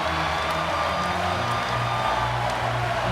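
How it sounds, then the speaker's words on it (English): A large crowd at a Wisconsin vs. Texas NCAA women's volleyball regional final roars in a steady, dense wall of cheering and whoops that fills the arena and does not let up. "here comes the crowd at the Greg"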